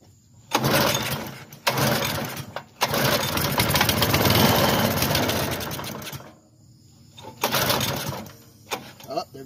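A cheap lawn aerating machine's small engine being pull-started, several bursts of rough sputtering running with brief gaps between pulls, close and loud, with a person speaking in between.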